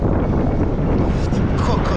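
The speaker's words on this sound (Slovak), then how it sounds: "Vonku je krásne, ale strašne studený vietor fúka." Strong, cold early-spring wind buffets the microphone outdoors on the way to a park, a continuous loud rumbling roar with gusty swells that fills the whole stretch without pause.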